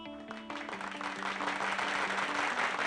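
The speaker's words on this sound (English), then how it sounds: "I'm going to make the clap go a little bit longer" A clap sound effect swells into a dense burst of crowd applause, moderately loud and sustained, with a musical tone fading out beneath its start.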